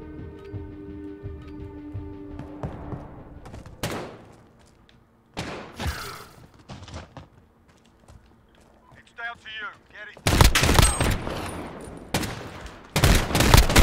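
Gunfire in a 2v2 match of Call of Duty: Modern Warfare (2019), scattered single shots early, then loud rapid automatic bursts near the end, with a voice talking in between.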